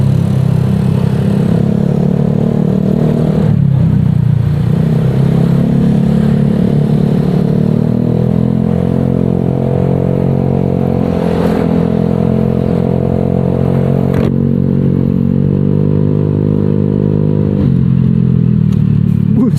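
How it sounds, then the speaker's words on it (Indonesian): Honda Vario 125 scooter fitted with a Nob1 Neo 3 exhaust, riding with a steady loud mid-range engine drone and a few sharp crackles and pops from the muffler as the throttle shifts. "Knalpot saya meledak-ledak tuh, suaranya kedengeran."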